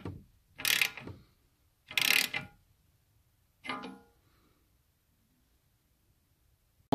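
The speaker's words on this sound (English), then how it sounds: "give it a very gentle tighten, as it's aluminium with a 19mm socket" A 19mm socket ratchet gently tightens an aluminium temperature sensor into a new high-flow radiator on a Toyota MR2, giving three short bursts of close, crisp clicking separated by quiet pauses.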